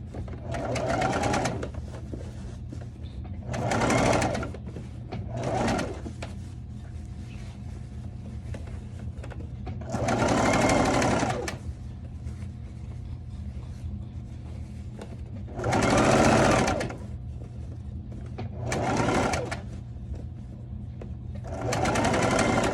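A domestic sewing machine stitches an understitch on an evening dress in repeated bursts of steady whirring, pausing briefly between runs, close and fairly loud.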